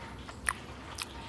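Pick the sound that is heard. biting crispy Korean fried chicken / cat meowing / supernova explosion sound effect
biting crispy Korean fried chicken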